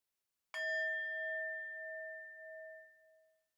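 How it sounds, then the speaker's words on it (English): A single bell strikes once with a clear, bright tone, then rings out and slowly fades over a few seconds in otherwise quiet surroundings. "I hear the bell"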